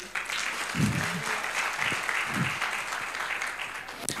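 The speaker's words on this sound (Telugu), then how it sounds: "ఒకసారి చప్పట్లు కొడదాం బ్రదర్కి" A church congregation applauds during a service, producing steady, dense clapping throughout with a few faint voices murmuring beneath it.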